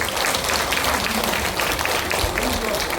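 Audience applause at a health lecture: dense, continuous clapping for about three seconds, with some voices mixed in.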